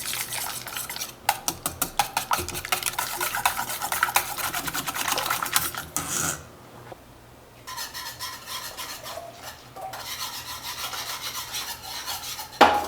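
Cocoa powder and milk powder being whisked in a bowl, giving a steady rapid scraping and rasping rhythm that runs close and fairly loud, pauses briefly mid-way, then starts again with no talking.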